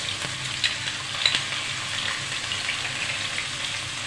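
Soybean chunks frying in a pan with cardamom, ginger paste and cumin paste: an even, hissing sizzle up close, with a few sharp clicks and scrapes from stirring.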